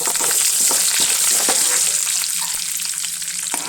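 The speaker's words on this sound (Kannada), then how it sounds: "ಉದ್ದಿನ ಬೇಳೆ ಹಾಕೊಂಡು ಅದು ಚಟಪಟ ಅನ್ನೋದಾಗ ಕಾಳು ಕಡ್ಡಿ ಕರಿಬೇವು ಕಡ್ಡಿ" Urad dal and curry leaves crackling in hot oil for North Karnataka vermicelli upma, a loud, close, continuous sizzle with sharp pops and spatters throughout, no voices.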